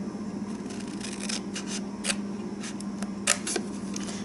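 Scissors snip through paper while a Valentine treat box is being made, producing several close, soft cutting strokes over a steady low background hum.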